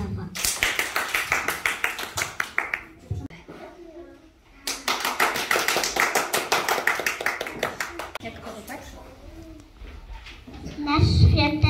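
Applause at a kindergarten nativity play: dense, steady clapping from an audience in two long bursts separated by a short pause, with a voice speaking in between and near the end.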